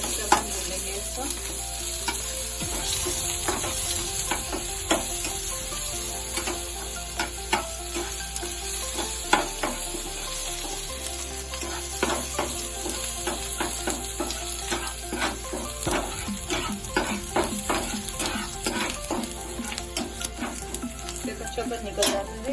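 Ginger garlic paste frying in a pan, with a steady close sizzle and repeated scraping and clinking of a spoon stirring against the pan throughout, with no talk.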